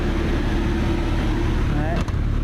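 The blower fan in an AAON HVAC unit runs with a steady, close mechanical drone and low hum, constant throughout with a brief dip near the end.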